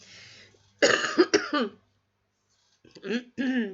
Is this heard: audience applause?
no